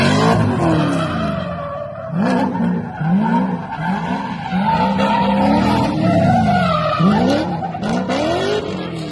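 A Nissan Skyline GT-R R34 with an RB26 engine drives close by, its revs repeatedly rising and falling in loud sweeping surges, with a squealing edge and no speech.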